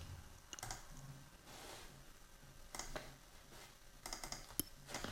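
Keys clatter on a computer keyboard while a file is named in Notepad++, with quiet, irregular bursts of typing and sharp separate clicks set against a soft room background.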